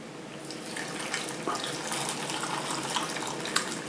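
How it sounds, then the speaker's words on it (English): A hot vinegar mixture streams steadily into pickle jars for garlic dill refrigerator pickles, a continuous close liquid pour with small splashes and no talking. "all you gotta do now is fill your jars up with the vinegar, hot vinegar mixture that we just did"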